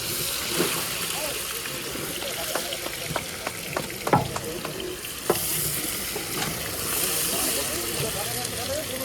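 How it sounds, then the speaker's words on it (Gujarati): Onions stirred and fried in a large pot for a big batch of Gujarati khari bhaat, a steady sizzle with scattered scraping knocks of a spoon, close by, while people talk now and then. "હવે ડુંગળીને બધું મિક્સ જ્યાર સુધી લાલ નહીં થઈ જાય ત્યાં સુધી આને મિક્સ જ કરવામાં આવશે"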